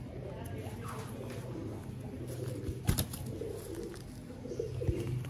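Sialkoti pigeons coo with soft, low, rolling calls throughout, close by, while someone talks over them.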